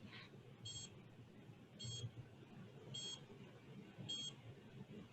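Small electronic SkeeterSat sensor beeper gives four short, evenly spaced high beeps about a second apart, fairly faint over a steady background hiss as its photo sensor is covered.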